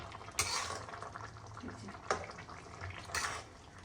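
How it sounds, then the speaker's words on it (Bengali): A lid is lifted off a pan of half-boiled eggplant for a spicy mourola fish chorchori, giving a few faint metallic clinks and scrapes against a quiet kitchen background, with no talking. "এবার আমি ঢাকনাটা খুলে নেব।"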